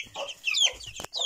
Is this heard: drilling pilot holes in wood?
no